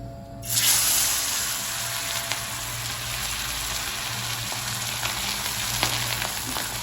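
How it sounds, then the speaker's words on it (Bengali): Fish frying in a pan, a steady loud sizzle and hiss of hot oil that flares up as the fish goes in and keeps crackling close by, with small pops throughout. "আমি একটা মাছই ভাজবো এখন, কারণ আমার মেয়েকে খাওয়াবো, তাই একটা মাছ আমি ভালো করে ভেজে নিচ্ছি"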